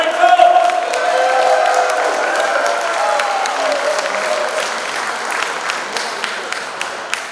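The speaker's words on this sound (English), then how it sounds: "You deserve a fantastic round of applause for this historic achievement in 2016" Crowd applause and cheering at a Diwali celebration at Mar-a-Lago, a broad wash of clapping with raised voices and whoops, while a voice and tonal sounds run over it early on.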